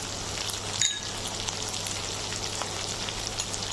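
Ginger garlic paste fries with spices for khichuri, a steady close sizzle with a bright crackling hiss and a brief sharp pop partway through.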